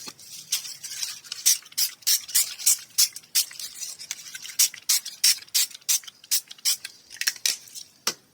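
Spray bottle spritzing a surface during a rustic ribbon craft project, heard as a long series of quick, sharp bursts, many in close succession with short gaps, close and fairly loud, with no talking.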